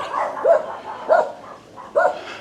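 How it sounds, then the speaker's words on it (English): Several dogs in Southeast Asia bark in three loud, close barks roughly evenly spaced, with quieter yips between them. "it is very aggravating with all the dogs barking at you"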